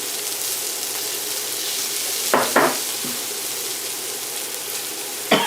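Garlic hits a very hot pan with beef and onions for Mongolian beef, a steady close sizzle broken by a few sharp scraping clatters of a utensil against the pan.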